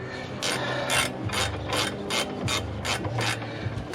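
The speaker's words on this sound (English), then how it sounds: "I don't recommend doing that on all ratchet wrenches because you'll bust them" A ratchet wrench clicks in quick repeated bursts, about eight strokes in four seconds, loud and close, while working on the brakes of a Dodge Ram 2500 pickup, with a steady mechanical rattle between strokes and no talking.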